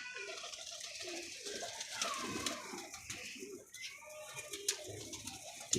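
Pigeons cooing in a loft, soft repeated low coos near the mic over a faint rustling background, with some quiet voices.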